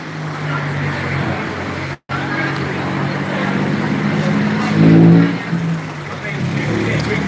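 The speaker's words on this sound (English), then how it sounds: "there's a car that's just gone onto Cathedral Street" A car pulls onto a city street in Norwich, its engine and tyre noise rising and peaking near the middle over steady traffic hum, with a brief cut partway through and people talking at times.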